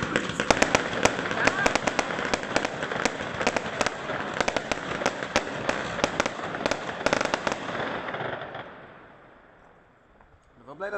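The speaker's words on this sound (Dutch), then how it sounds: "Ik ben wel blij dat er wat vuurwerk afgestoken wordt zonder mist." Fireworks crackle and pop in rapid dense bursts for several seconds, with voices faintly underneath, then fade to near quiet.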